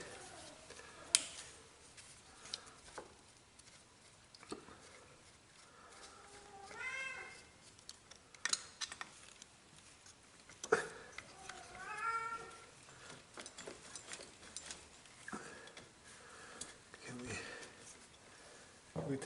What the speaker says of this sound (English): cat wants attention, don't you think?